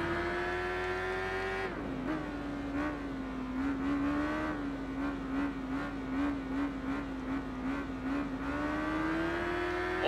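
Racing motorcycle engines in the Tourist Trophy video game, a loud, close, high-revving whine that holds steady, dips with quick gear changes, then climbs again, with no talking.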